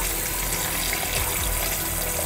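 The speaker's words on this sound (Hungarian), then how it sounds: "teszek rá vizet" Water gushes steadily from a tap onto dried apples in a kitchen, a loud, continuous rushing pour with no pauses.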